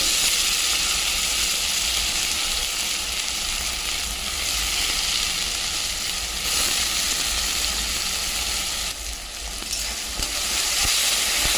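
Banana flower, onion, tomato and garlic fry in a pan with a loud, continuous sizzle, stirred throughout with brief shifts in the hiss.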